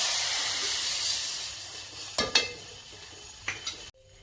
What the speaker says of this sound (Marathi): पाण्याला उकळी आलेली आहे